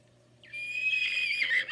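A human voice imitates a horse neighing, a single short rising whinny that wavers and trails off, close and clear against a quiet background.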